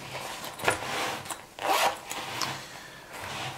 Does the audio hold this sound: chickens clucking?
no